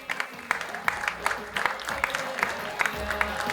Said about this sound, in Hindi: जोरदार तालियों के साथ warm welcome for our producers